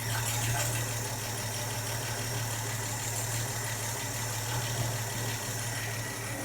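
A car engine idles steadily with a low, even hum while a light, rhythmic valve tapping ticks above it, close and continuous with no voices.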